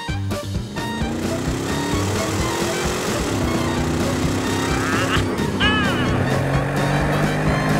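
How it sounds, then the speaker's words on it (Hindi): A motorcycle engine runs with a steady buzzing drone whose pitch shifts as it changes speed, fairly close and continuous, with brief high-pitched squeaks or voices breaking in near the end. "निकी यहाँ देखो, जबरदस्त मोटरसाइकिल"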